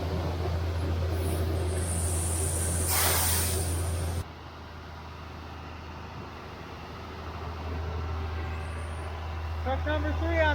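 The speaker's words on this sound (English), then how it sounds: "Truck number 3 on the day going up." A grain truck drives up during a soybean harvest, a steady low engine rumble with a loud hiss of air brake release partway through, then idling and rolling noise; rain and nearby voices are faintly mixed in.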